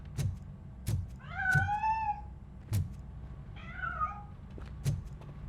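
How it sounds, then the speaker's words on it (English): A cat meows twice in the Robocop Rogue City video game, two rising and falling calls heard near and clear over a steady low rhythmic background thump. "That cat must be hiding inside."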